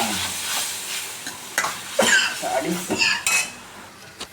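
Tomatoes are stirred into roasting onions in a pan for Kerala-style kadala curry, with gentle sizzling under several sharp scrapes and clinks of a spoon against the pan.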